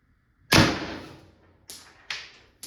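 A Tippmann TMC paintball marker firing rounds from its magazine, with a loud sharp pneumatic pop followed by two more shots spaced apart, each a close burst that fades quickly, and no voices.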